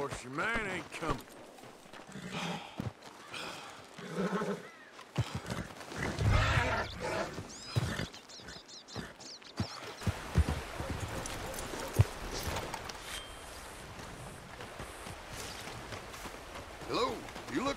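Horse hooves clip-clop in the Red Dead Redemption 2 video game, a steady rhythm of hoof falls running under a voice and game background sound for most of the stretch.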